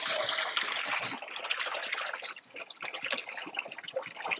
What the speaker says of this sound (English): Now it's time to open the valve and let the water start flowing in.